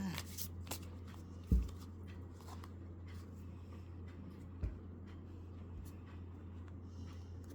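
Tarot cards are shuffled softly in quick riffling bursts, close and faint, with a couple of sharper taps as the deck is handled over a low steady hum.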